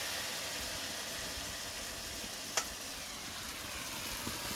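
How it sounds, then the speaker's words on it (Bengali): Prawns frying in a pan with taro stolons, a steady soft sizzle with a single sharp clatter of stirring midway and a faint tap near the end. "চিংড়ি মাছগুলো দিয়ে দিয়েছি এবার নেড়ে ছেড়ে নেব ভালো করে"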